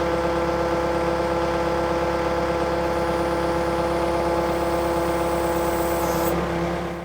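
A Heracles H220 compact loader with a Yanmar engine idles steadily and close by, a loud, even diesel hum with a constant low throb that holds throughout and eases slightly at the very end.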